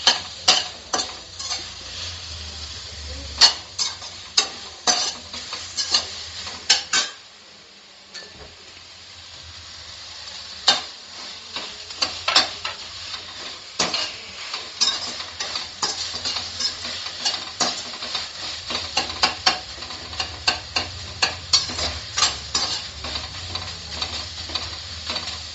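Mint and coriander leaves sauté in a pan for onion chutney, giving a low sizzle under frequent sharp scrapes and clinks of a spatula stirring. A brief lull falls midway, and no voices are heard.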